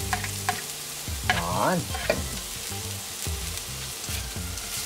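Red onion and minced ginger sautéing in a hot pan, a continuous sizzle broken by a few stirring scrapes, with a brief spoken word near the start.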